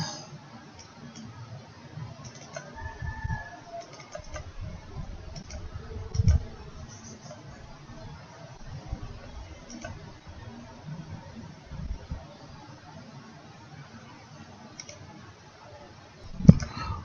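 Sparse computer mouse clicks during school exam-data software setup, a few isolated sharp ticks over a low room hum, with a louder click near the end.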